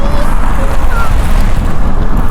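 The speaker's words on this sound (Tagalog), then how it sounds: "Dito medyo malakas-lakas na yung hangin kasi open siya" Strong wind roars and buffets the microphone continuously in an open area of Nuuk, Greenland, a dense low rumble with no pauses, close and loud throughout.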